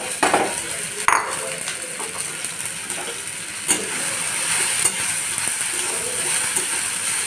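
Okra sizzles in a hot pan with a steady frying hiss, broken by a few scraping stirs and clinks of a utensil close by.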